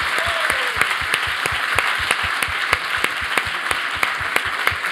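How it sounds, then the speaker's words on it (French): An audience applauds after a talk on the Conseil d'État and lawmaking, steady dense clapping from many hands in a hall, even and sustained throughout. "on va s'arrêter ici en vous remerciant et en vous applaudissant"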